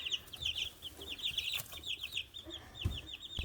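Baby chicks in a brooder peep continuously in a steady, high chatter of overlapping calls, close by and moderately loud, with occasional soft shuffling beneath.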